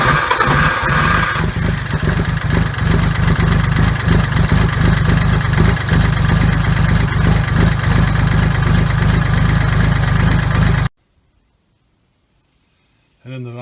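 An old tractor engine with a history of hard starting fires up and runs at a steady, rumbling idle, loud and close for about eleven seconds before it cuts off into silence.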